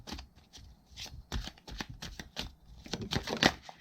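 Tarot cards being shuffled by hand, a close series of quick papery riffles and slaps in uneven bursts, repeated many times with no voices.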